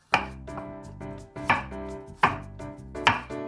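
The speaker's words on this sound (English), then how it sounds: "And we chop mince like this." A sharp kitchen knife chops and minces garlic on a board for seafood paella, with four or five distinct knocking strokes at an uneven rhythm, close and clear with no talking.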